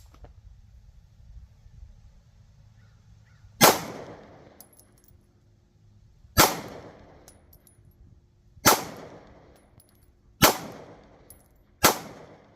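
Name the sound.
Kahr PM9 pistol gunshots at target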